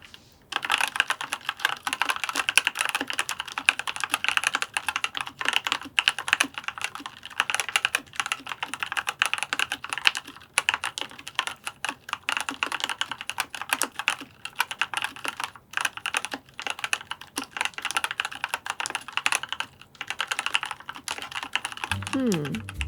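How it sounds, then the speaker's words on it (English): Continuous rapid typing on a stock Dustsilver K84 mechanical keyboard, dense clacky keystrokes throughout, close and fairly loud, with no talking. "Now let's see how the stock keyboard sounds."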